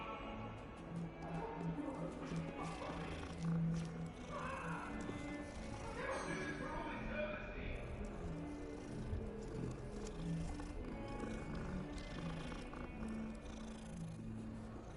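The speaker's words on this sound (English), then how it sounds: "What kind of cat is that?" A cat purrs steadily in the Hogwarts Legacy video game, a soft continuous rumble set within a busy game soundscape with ambient noise throughout.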